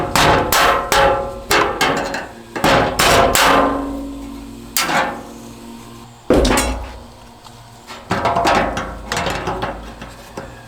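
Hammer blows knock out the big square knockout on a Leviton outlet box, loud sharp metallic strikes in clusters with ringing decay and short pauses between bursts.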